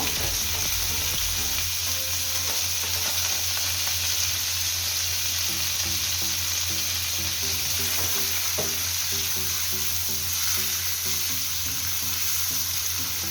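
Carrots fry in hot oil, giving a loud, continuous sizzling hiss with a faint steady hum beneath and no voices.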